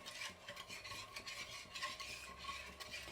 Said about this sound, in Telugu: ఈ మైసూర్ పాక్ అంతా మనం కలుపుతూనే ఉండాలండి